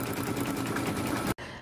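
A flatbed embroidery machine stitches a potholder, giving a fast, steady mechanical rattle close by that runs continuously before cutting off abruptly, followed by a quieter hum.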